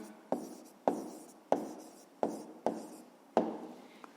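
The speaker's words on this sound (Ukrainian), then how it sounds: "записуємо відповідь" A pen writes down a math answer in six short, crisp scratching strokes at a steady pace, close and quiet, with no talking.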